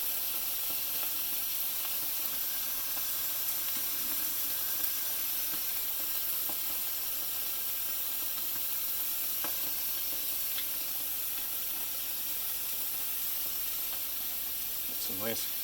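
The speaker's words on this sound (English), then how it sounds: "I'm going to let it sizzle for a few minutes on each side." Steady sizzling and crackling of pot roast meat searing in a hot skillet, continuous hiss with small pops, a clattering scrape near the end.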